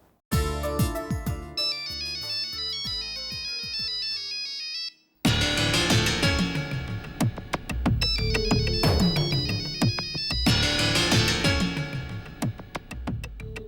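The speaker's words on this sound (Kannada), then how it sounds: "ಯಾರ್ದು ಫೋನು?" A phone ringtone plays a repeating melodic tune, loud and close, running for several cycles with a short pause partway through; nobody speaks over it.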